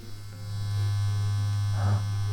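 Electric vibrating facial cleansing massager buzzing, a steady low hum that holds throughout, close and loud, with a brief brushing rustle near the end.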